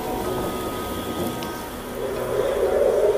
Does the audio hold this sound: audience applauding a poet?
no